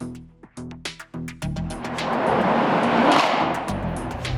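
A 2015 Chevrolet Corvette Z06 with its supercharged 6.2-liter LT4 V8 gives a few short, sharp engine blips, then settles into a sustained, loud, close roar that swells and holds to the end.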